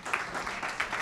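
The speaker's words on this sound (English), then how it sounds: "Let's keep this clap going for Mrs. Lisa Leslie, everyone." Brief burst of audience applause for former basketball player Lisa Leslie after an interview, a short, soft patter of clapping hands lasting about a second.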